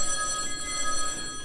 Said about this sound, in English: The ringing is getting louder